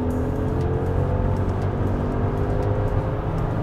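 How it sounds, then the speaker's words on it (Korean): Maserati Levante GTS with a 550-horsepower engine, running in sport mode: a steady, deep exhaust rumble holds at an even level close by throughout, with no voices over it. "기본적으로 약간 그 배기음이 커지는데요."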